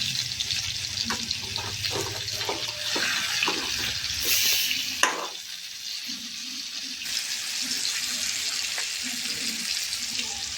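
Chicken fried thattukada style in a pan, with a steady sizzle under a quick series of scraping clatters as pieces are turned, then a softer continuous frying hiss.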